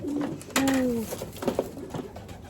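Racing pigeon hens cooing inside a loft, a few soft drawn-out coos close by with some scattered shuffling and low handling noise around them.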